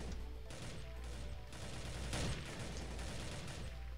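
Sustained automatic gunfire in the online first-person shooter Global Strike, a dense continuous rattle of shots that runs through the whole stretch at steady loudness.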